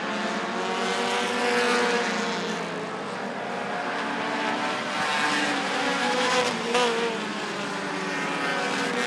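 Midwest Dash series race cars roar around the oval at Rockford Speedway during a feature race, engines droning and rising in pitch as they pass in a dense, continuous wash of motor noise.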